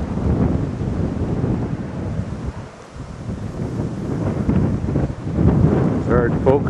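Blizzard wind buffets the microphone with a heavy, rumbling low roar that swells and dips, loud and close, with a faint voice surfacing near the end.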